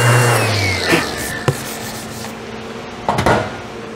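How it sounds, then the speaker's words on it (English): Sanding raised wood grain on an epoxy resin and wood project, a steady abrasive rubbing with a few short scuffs and knocks, close and fairly loud with no talking. "And a little bit of raised wood here will sand that off."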